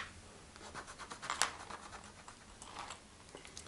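Quiet, quick rubbing and scratching of an eraser on a surface during a counting lesson, a faint, uneven series of short scrubbing strokes with one sharper scrape, no talking.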